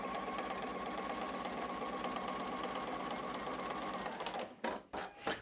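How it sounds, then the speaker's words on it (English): A sewing machine with an edge guide stitches a quilt block in a continuous, close whirring run, then stops and gives a few short clicks. "Let's stitch all through here."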